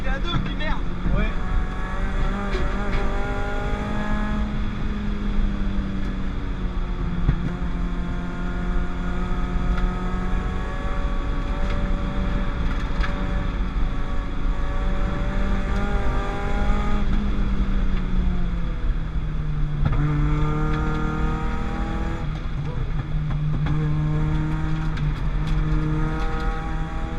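A Peugeot 206 RC engine fitted in a GTI car drives laps of the Lurcy-Lévis race circuit, revving up and shifting through gears repeatedly, a loud close droning note rising and falling under occasional talk.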